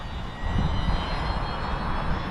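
A steady, whirring high-speed spin with a broad airy roar, continuous and fairly close, from the gyro of a Losi Promoto SM RC motorcycle spinning up, like a small motor revving up.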